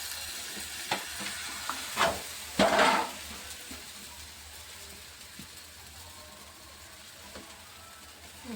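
Small holige flatbread laid on a hot griddle, giving soft intermittent sizzles with a couple of louder hissing bursts near the start before settling into a quiet, faint crackle.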